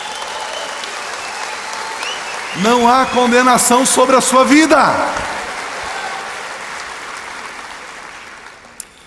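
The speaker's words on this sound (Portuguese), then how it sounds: "Pode aplaudir Jesus." Church congregation applauding, a burst of clapping that swells in the middle of the clip for about two seconds while a preacher's voice speaks over it, then fades back into a quiet room.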